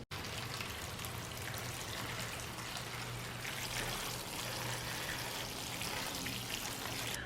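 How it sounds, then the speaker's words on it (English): Water pours steadily into seed trays for sowing gomphrena, a continuous soft splashing and trickling that runs the whole time at low volume, with no talking. "we're just gonna go ahead and get these seed trays filled with water"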